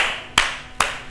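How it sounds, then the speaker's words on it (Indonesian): Two sharp hand claps about half a second apart, close and loud, from a classroom ice-breaking clapping game. "kita akan ice breaking tepuk-tepuk"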